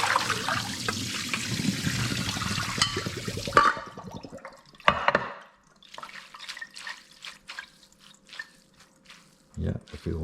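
Water pours and splashes loudly from a pot as soaked rice noodles are drained into a strainer, then fades into scattered drips and small clattering sounds.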